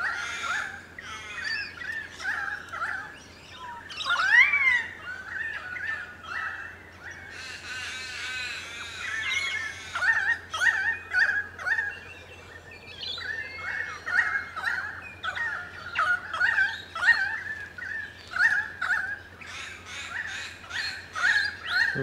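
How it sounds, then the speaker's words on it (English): Many birds call and sing all around in Mullum Mullum Park, overlapping chirps and trills near and far, some loud and close, against a quiet low hum. "I'm just surrounded by this"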